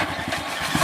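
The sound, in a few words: motorcycle engine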